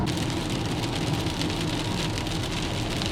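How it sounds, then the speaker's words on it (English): Steady rain pours down continuously during a road trip toward the Arctic, a dense, even hiss with no pauses and no voices. "Now the rain just won't stop"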